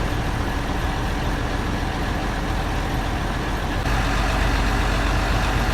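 A launch boat's engine runs steadily as it departs Sajnekhali launch ghat in the Sundarbans, a dense continuous low rumble that grows slightly louder near the end, with no voices.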